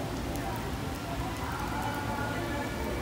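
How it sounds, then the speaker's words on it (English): Steady rain falling outdoors in Macau or Hong Kong, a soft constant patter and hiss at moderate distance with no other distinct sounds. "It's still raining. I don't think it's gonna stop."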